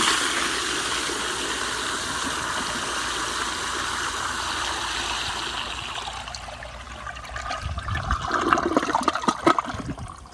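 A 1998 American Standard Cadet spacesaver toilet on a flushometer flushes with a loud rushing swirl of water that gradually fades, giving way to gurgling and trickling refill sounds near the end.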